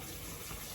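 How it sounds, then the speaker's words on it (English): A water sprayer rinses a Havanese puppy's body during a bath, a steady faint hiss of spraying water over a very brief moment. "I wouldn't use the sprayer on his face at all, but he's fine with it on his body now."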